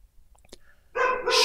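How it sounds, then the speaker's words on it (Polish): A dog barks close by, a couple of short sharp yaps after faint clicks and small noises, the bark rising loud and bright toward the end. "O, jak pięknie mój pies szczeka."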